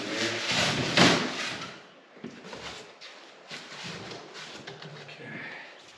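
Metal drawers of a Vulcan heavy duty welding cart sliding open and shut, a loud rolling clatter at the start followed by softer scrapes and knocks, with a voice briefly murmuring nearby.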